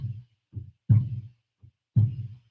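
Deep, muffled heartbeat thumps arrive in soft paired beats, a lighter knock followed by a heavier one, repeating about once a second in a slow steady rhythm, close and alone.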